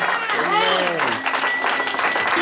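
A church congregation claps and cheers in praise throughout, a steady wash of applause under a loud voice that calls out over it.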